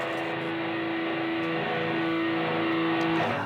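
A distorted electric guitar rings out a sustained chord with an added fourth, held thick and steady, close and alone, with a slight swell before it fades.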